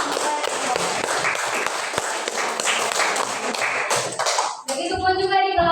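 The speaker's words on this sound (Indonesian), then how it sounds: "Berikan tepuk tangan" Students applaud a group in a classroom with a dense, steady spatter of clapping. It stops suddenly near the end, and a voice begins speaking.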